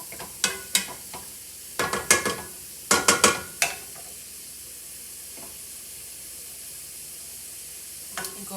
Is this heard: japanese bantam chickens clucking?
no